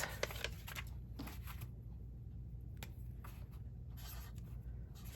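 A circle cutter scoring mat board for 3.5-inch circle mats: faint, soft scraping and rubbing strokes come in short bursts with pauses, close and quiet.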